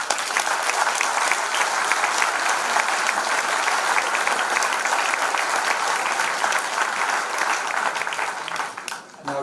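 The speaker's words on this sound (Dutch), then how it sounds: "Dus voor jullie allemaal vraag ik een hartelijk applaus." Dense, sustained applause from an audience filling an evening gathering, steady and loud throughout with a brief dip near the end.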